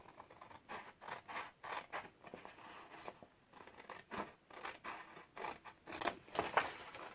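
Scissors cut card along a score line in a run of short, crisp snips, close and quiet, each cut a brief rasping scrape with small pauses between strokes.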